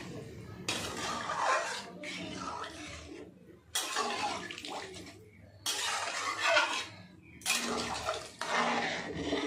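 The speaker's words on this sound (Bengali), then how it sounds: "ভালো করে নাড়াচাড়া করে নেব।" A spoon scrapes and stirs jackfruit curry with water in a pan, making repeated rhythmic bursts of wet scraping and clinking close by.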